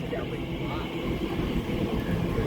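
A Class 345 train rumbles along steadily at close range, a continuous low roar of wheels and motion.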